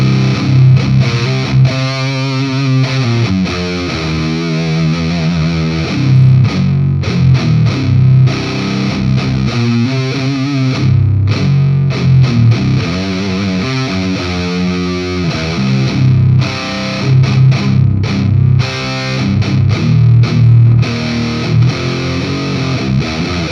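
Electric guitar played through a Sonicake Blue Skreamer overdrive pedal in its loud mode, giving a thick, fuzzy, heavily distorted tone; sustained chords and riffs ring out loud and continuous with no talking over them.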